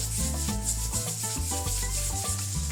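Leather conditioner being rubbed in circles into a leather bottle case: steady, close, dense rubbing and scrubbing that runs continuously, loud and rhythmic, with no talk over it.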